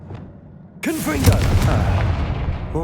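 A Confringo blasting spell detonates in Hogwarts Legacy, starting as a sudden loud burst after a quiet lead-in, then a rumbling, crackling blast that lingers while a voice cries out over it.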